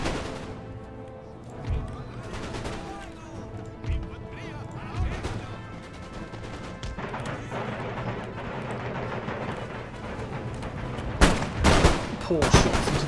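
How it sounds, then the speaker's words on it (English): Musket volleys fired on marines in Empire: Total War, a series of sharp cracks and crashing reports scattered through the battle, loudest near the end, with talk running over them. "Poor shots into those marines"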